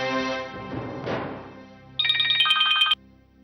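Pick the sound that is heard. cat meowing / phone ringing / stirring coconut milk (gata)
phone ringing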